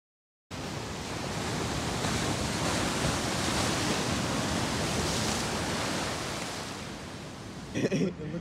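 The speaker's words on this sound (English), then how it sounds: "Waterfalls." Steady broadband rush of falling water from a waterfall, loud and continuous for several seconds outdoors, fading slightly before brief bumps at the end.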